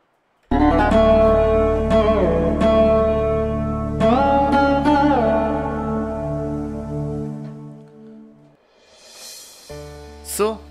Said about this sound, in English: this is making of Sarod patch on Mainstage 3